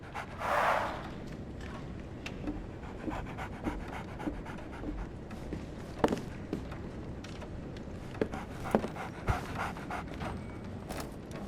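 Dog in Sherlock Holmes The Awakened panting in quick, steady breaths close by, with a brief loud rush near the start and scattered soft thumps.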